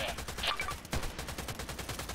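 Three gunshots in the online shooter Contract Wars on the Old Sawmill map, sharp and fairly close, spread over about two seconds amid low rumbling game noise.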